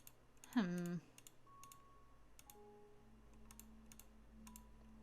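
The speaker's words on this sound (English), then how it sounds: "if you think you hear clicking as I randomly click" Faint, sparse computer clicks tick out one at a time in a quiet room, with a short louder tonal burst near the start and a low hum underneath.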